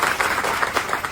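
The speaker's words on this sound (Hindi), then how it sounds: "उन सबके लिए एक बार जोरदार ताली बजाएं" Applause for a school teaching team at an award ceremony, a short burst of fairly quick, steady clapping from an audience.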